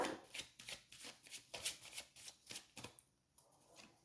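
Tarot cards are shuffled and drawn by hand in a run of quick, crisp riffles and soft slaps, close and quiet, tapering off toward the end.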